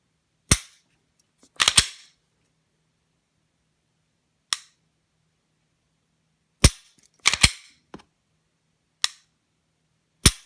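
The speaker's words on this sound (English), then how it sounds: "let's show you the trigger on the Glock" Glock 22 pistol trigger being pulled and reset, sharp isolated clicks that come singly and in quick pairs, spaced out with silence between them.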